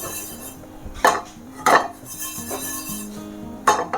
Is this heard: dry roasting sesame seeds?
yes